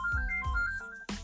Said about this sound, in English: He just lets the phone ring during the podcast.